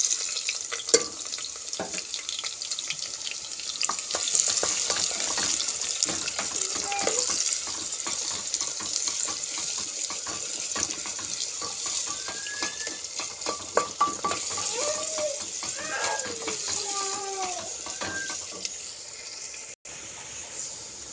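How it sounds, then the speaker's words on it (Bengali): Chopped onions fry in hot oil in a pressure cooker, a continuous close sizzle with frequent stirring scrapes and a few faint high squeaks. "তেল গরম হয়ে গেছে, কেটে রাখা পেঁয়াজ কুচি দিয়ে দেবো।"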